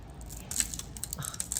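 Crisp, brittle crunches as a thin, pressed sheet of oven-baked nut-free oat granola is broken apart, several close, quiet snaps and crackles in quick succession.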